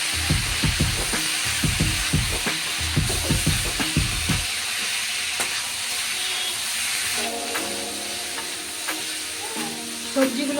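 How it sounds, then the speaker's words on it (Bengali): Mixed vegetables frying in a pan and stirred now and then, with bursts of scraping and clatter over a steady hiss of sizzling; a voice can be heard faintly during the first few seconds. "আবার একটু নেড়ে চেড়ে নেব, মাঝে মাঝেই কিন্তু নাড়তে হবে, তাহলে সবজিগুলো সব দিকই ভালোভাবে ভাজা হবে।"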